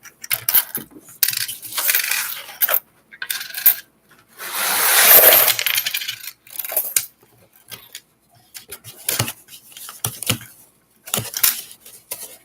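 Wheat pennies, including a worn 1957 Philadelphia coin, clink and rub against each other in short bursts of handling, with one longer jangling stretch midway through a quiet nighttime sorting session.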